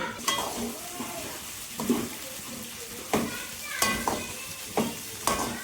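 Ingredients stir-fried in a pan, with a steady oily sizzle broken by regular scraping and clattering strokes of a utensil against the metal.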